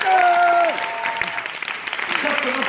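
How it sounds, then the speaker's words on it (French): A theatre audience at a live stage show claps continuously in a full, dense wash, while a voice calls over it at the start and again near the end. "Applaudissez-vous."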